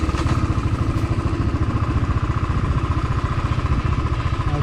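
A motorbike engine drones steadily and close, with a rough throbbing idle-like rumble and light clatter, on a ride through forest toward a viewpoint in the Ananthagiri hills, Vikarabad.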